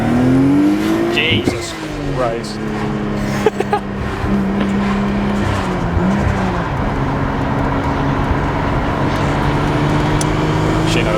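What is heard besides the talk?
Nissan Stagea engine revving and accelerating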